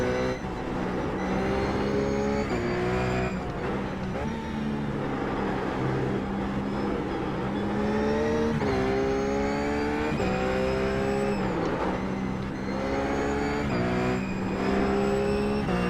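A race car in a racing video game lapping the Nordschleife, its engine revving loud and steady through repeated up-shifts and rising pitch sweeps, with faint tyre noise underneath.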